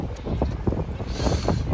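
Wind on a beach in the evening buffets the microphone with uneven rumbling gusts and a low roar, loud and close, with a few knocks underneath.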